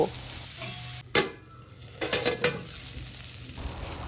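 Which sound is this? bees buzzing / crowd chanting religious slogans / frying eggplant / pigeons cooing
frying eggplant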